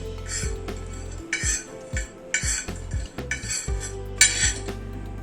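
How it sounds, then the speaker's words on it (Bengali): Whole spices being stirred and dry-roasted over low heat in a pan for a Bengali spice mix, giving a run of bright metallic scraping and clinking strokes in short bursts, close and fairly loud, with no voices. "মশলাটাকে এই মিনিট 2 মতো আমি নাড়াচাড়া করে নিলাম।"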